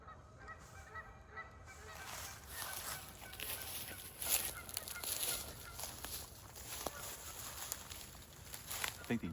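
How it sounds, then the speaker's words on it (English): Geese honk repeatedly at a morning campsite in a state park, moderately distant calls overlapping in an irregular chorus over faint background noise. "I think the geese are trying to wake us all up."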